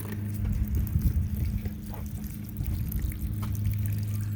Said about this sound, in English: And then I'm going to backfill